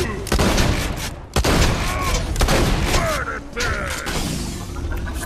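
An explosion and gunfire from the Borderlands video game arrive as dense bursts of rapid shots and booming blasts with mechanical clatter, loud and continuous, while a player talks over them.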